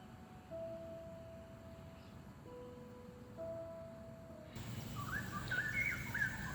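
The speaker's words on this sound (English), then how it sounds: "if you actually keep walking along here, you can hear the birds" Birds sing among the trees at seaside Sembawang Park. Faint, drawn-out whistled notes come first, followed by brighter chirps over a soft outdoor background.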